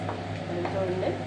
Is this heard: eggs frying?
yes